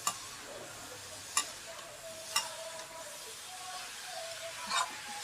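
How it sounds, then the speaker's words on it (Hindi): Grated carrots roast in ghee in a pan, with a soft, continuous sizzle and occasional sharp clicks of a spoon as they are stirred. "ये घी में भूनने के बाद हम फिर डालेंगे दूध इसमें। इसको अच्छे से भून लेते हैं पहले।"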